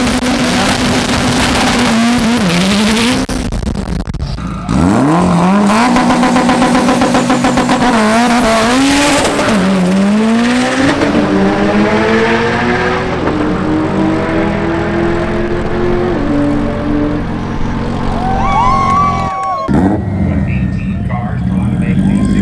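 A big-turbo Subaru STI drag car rolls along at low speed toward parking, its engine note rising and falling through gear changes, loud and close, with people talking over it.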